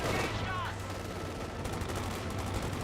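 Wehrmacht Grenadiers firing rifles and machine guns in Company of Heroes 2, a faint, muffled crackle of battlefield gunfire under a steady background of game ambience.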